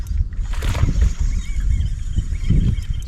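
A bass hooked on a soft jerkbait thrashes at the surface of windy Lake San Antonio, with continuous close splashing and sloshing under rushing wind noise.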